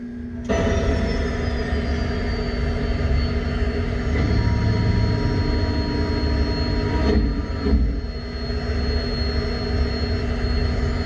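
An aircraft landing, heard as a loud, sustained engine roar with a whining tone that starts abruptly and holds steady, with a couple of brief surges partway through.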